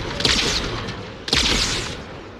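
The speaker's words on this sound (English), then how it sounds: "Who the heck is shooting at me?" Two heavy bursts of gunfire in the video game Halo 2, each a loud blast followed by a fading rumble about a second apart, close and alone with no talk.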